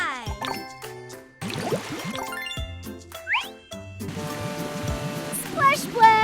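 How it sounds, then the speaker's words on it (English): Water splashes and drips in a cluster of bright plops and trickles, mixed with tinkling music and a voice speaking over it. "Splash, splash."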